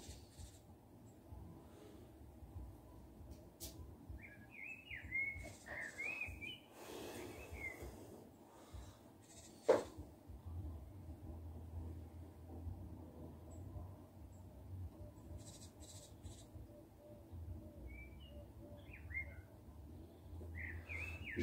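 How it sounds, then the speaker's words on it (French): Scattered bird chirps and short whistled phrases at a distance, faint and intermittent over a low background hum. "J'aime entendre le chant des oiseaux qui volent très haut."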